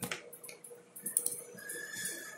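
Short, soft clicks of keys being typed on a computer keyboard, close and quiet, with no voice over them.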